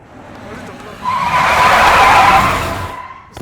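A car in a Hindi film scene brakes hard and skids to a stop, a loud rising tire screech that swells for about two seconds and then fades, with a voice speaking over it.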